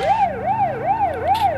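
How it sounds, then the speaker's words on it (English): A police car siren in the BeamNG Drive driving game wails in a steady rising-and-falling cycle, about four sweeps in quick succession, loud and close with no voices over it. "This siren is super loud."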